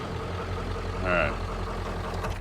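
A Ford F350 truck idles with a steady low engine rumble while its power steering pump runs, a brief strained whine swelling near the middle, with talk over it.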